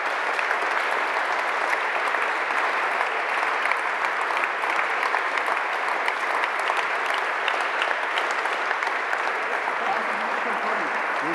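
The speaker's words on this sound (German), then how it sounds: "Ich bitte noch um Ihren Applaus." Audience applause at a Bavarian museum conference in the Diözesanmuseum Freising, a dense, even round of clapping from a large seated crowd that holds steady throughout.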